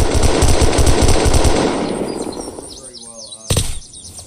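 Rapid automatic gunfire from a gun in Unturned, a dense loud burst for about two seconds that fades out, followed by a single sharp shot, with speech mixed in.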